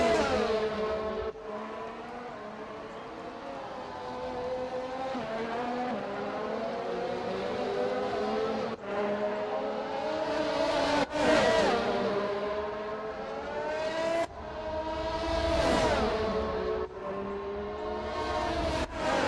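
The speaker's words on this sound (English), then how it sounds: "Here comes the Ferrari." Ferrari Formula 1 car racing at the Melbourne season opener, high whining engine tones rising and falling through gear changes over about twenty seconds of steady loud motorsport noise with crowd and track ambience.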